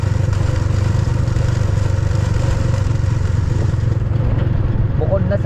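A single motorcycle labours up a steep, zigzagging road, its engine a steady low throbbing drone close by, with a brief rising rev near the end.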